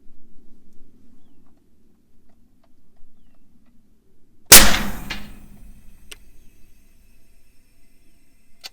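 Umarex Hammer .50 caliber airgun fired during 100-yard accuracy testing: one sharp, loud report midway through, followed by a brief ringing tail, with near-silence before and after.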